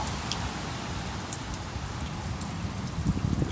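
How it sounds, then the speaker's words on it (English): Light rain during a South Louisiana thunderstorm makes a faint, steady patter and hiss, a soft even wash of drops heard outdoors with no voices. "It's raining a little bit"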